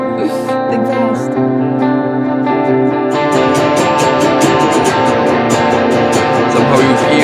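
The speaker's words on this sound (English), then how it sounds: "Somehow you hear the echo evolving in the background" An electric guitar played through effects pedals rings out with sustained, layered distorted tones and repeating echoes that build into a dense wash, with rapid picked notes joining partway through.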